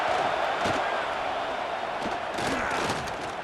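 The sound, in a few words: football stadium crowd cheering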